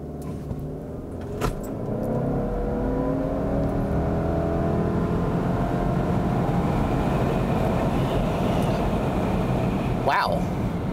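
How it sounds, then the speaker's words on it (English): A 2022 Subaru Outback Wilderness launches from a brake-torqued standstill and accelerates hard to 60 mph. Heard from inside the cabin, its engine drone climbs steadily and stays loud throughout, with a couple of brief clicks. "a 0 to 60 acceleration in this car"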